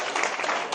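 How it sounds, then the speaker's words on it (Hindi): A short, dense burst of audience applause at a Hindi literary award ceremony during the presentation of a memento. Steady, close hand-clapping fills the whole moment with no voice over it. "आप तालियां बजा सकते हैं। तालियों के साथ"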